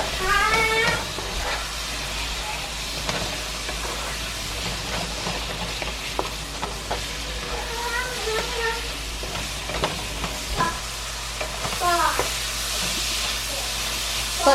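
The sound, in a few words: spiced food cooking and sizzling in a pan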